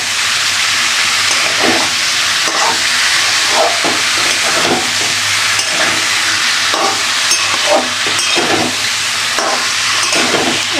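Papaya and potatoes sauté in a pan with a steady, loud, close hiss and sizzle, broken by repeated bursts of crackle as the pieces are tossed and stirred.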